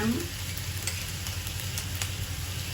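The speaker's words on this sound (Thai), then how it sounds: "ถ้าเราต้องการความหวานและความกรอบจากผักที่เราผัดนะคะ" Shrimp with baby corn and vegetables stir-frying in a pan, giving a steady hiss and sizzle with occasional scraping stirs, close and continuous throughout.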